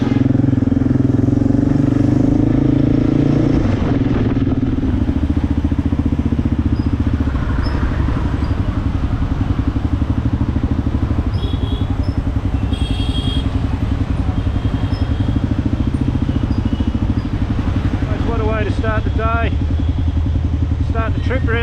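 A Kawasaki KLR650 motorcycle rides along a road, its single-cylinder engine droning loud and steady up close with wind rush and a few passing vehicle sounds, while a rider's voice talks over it.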